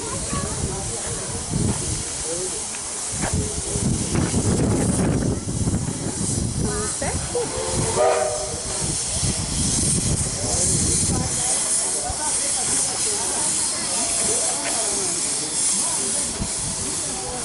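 Loud, steady hiss of steam from a nearby locomotive on the Bellarine Railway in Victoria, Australia, continuous throughout, with faint voices and rumbling mechanical noise underneath.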